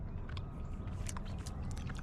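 Crisp crunching and chewing of candied rose petals in a chocolate bar close to the mic, irregular bites over a low steady background, with no speech.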